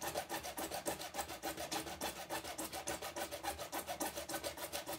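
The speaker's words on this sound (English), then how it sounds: "which doesn't tend to happen so easily when sawing by hand" A hand saw rasps back and forth through plastic in a steady, quick rhythm, each stroke a gritty scrape, close up and continuous.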